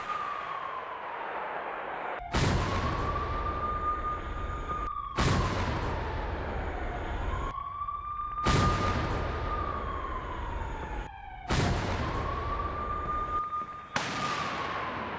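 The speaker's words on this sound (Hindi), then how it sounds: "रूस ने अब अकात्सिया होवित्जर से यह वार किया है" Artillery from an Akatsiya self-propelled howitzer, fired in the Russia–Ukraine war: five loud, sharp blasts roughly every three seconds, each followed by a lingering rumble, with a steady tone running underneath.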